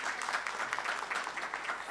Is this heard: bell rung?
no